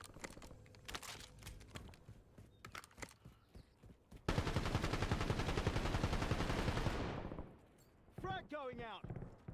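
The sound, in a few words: gunfire in video game Warzone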